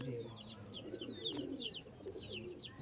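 Pigeons kept by a tournament-winning fancier coo softly near and far alongside bright chirping birds, a steady mix of low murmuring calls under a busy outdoor bird chorus.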